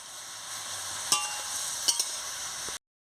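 Spices being stirred into a simmering fish curry of murala fish in a pan, a steady frying hiss with a few sharp scrapes of the spoon against the pan.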